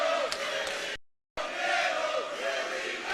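A wrestling crowd at a PCW Ultra show chants in two alternating camps for Cero Miedo and Willie Mack, a loud, rhythmic arena roar broken by a brief dropout before resuming.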